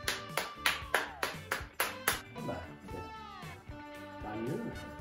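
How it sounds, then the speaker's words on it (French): Audience applause greets a contestant on a French TV game show: a quick run of about eight sharp, evenly spaced claps in the first two seconds, then fading into a spoken host voice with a faint musical tone. "Bernard, on peut l'applaudir"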